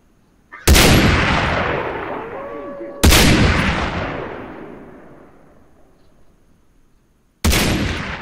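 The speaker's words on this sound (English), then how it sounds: "Let's kill them with the sniper." Sniper rifle fire while hunting dingoes in the video game Far Cry 3: three loud, sharp shots, each followed by a long fading echo, spaced a few seconds apart.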